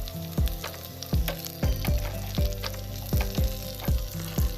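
Potatoes sizzle in a pan while regular knocks of stirring or scraping repeat roughly every second.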